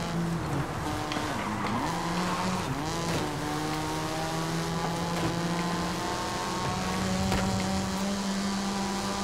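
A Mazda RX-7 in Forza Horizon 5 drifts through Japanese streets, its engine holding a loud, steady droning note with rising and falling pitch sweeps and faint tire noise, with no talk.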